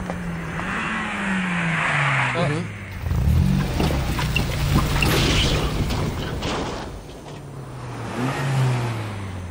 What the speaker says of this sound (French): Tu as vu, sur la voiture qui vient de passer